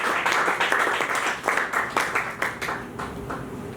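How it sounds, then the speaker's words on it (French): A church congregation applauds during a sermon, a dense run of clapping that starts full and fades gradually over a few seconds, with no talk over it. "Nous pouvons applaudir pour Dieu."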